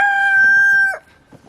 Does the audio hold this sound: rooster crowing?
yes